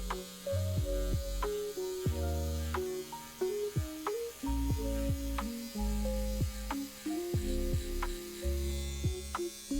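An electric nail drill fitted with a cuticle bit works over cuticles at a low speed, about 3,000 to 5,000 RPM. It gives a steady, close motor whine whose pitch steps up and down, with short ticks as the bit touches the nail.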